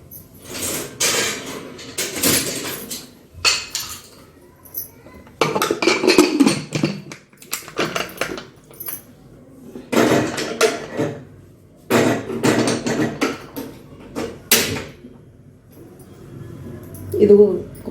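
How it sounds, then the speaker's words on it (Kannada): Metal clattering and clanks from a pressure cooker being assembled and set on a stove in a home kitchen while cooking methi palya, with bursts of handling noise between quieter pauses as someone talks. "ಕುಕ್ಕರ್ ಜೋಡಿಸಿ ಕುಕ್ಕರ್ ಹಚ್ಚಬೇಕು."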